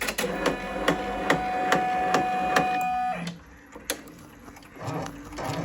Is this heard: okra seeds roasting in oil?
no